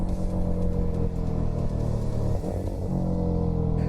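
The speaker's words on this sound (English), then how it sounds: "At lower speeds, there's a lovely mechanical sound." Porsche 718 Cayman mid-mounted engine heard from inside the cabin at low speed, a steady, loud mechanical hum and drone with a brief dip in the middle, no talking.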